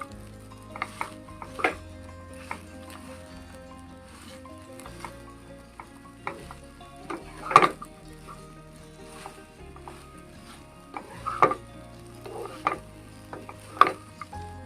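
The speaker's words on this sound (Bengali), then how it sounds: "আরেকবার ভালোভাবে নেড়ে মিশিয়ে নেব" A mixture of sago, mung dal, vegetables and grated coconut is stirred in a pot with a utensil. Scattered scrapes and clinks, some sharper than others, sound over a faint steady background hum.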